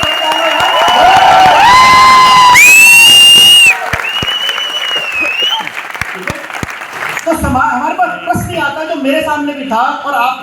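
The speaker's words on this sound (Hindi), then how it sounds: "मेरे से ज्यादा ताली उनके लिए होनी चाहिए जिन्होंने व्यवस्था कर रखी है" Audience applause for the organizers at a success celebration, a broad crowd clatter that swells after a stretch of tonal music and continues with voices talking and cheering over it.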